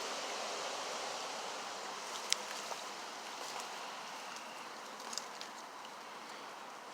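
Rain floodwater flows in a steady, moderately quiet wash, with a few faint ticks and splashes scattered through the continuous rushing.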